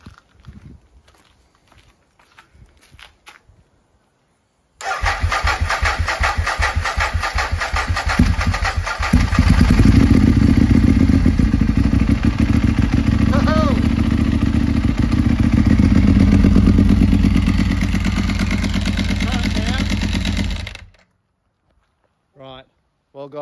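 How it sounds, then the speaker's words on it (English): A Ducati 1098 motorcycle engine on a project bike cranks over, catches, and roars into a loud, steady, close idle with a throaty rumble, running for about fifteen seconds before cutting off abruptly. "We didn't even know if this was going to start, and we have got this thing running."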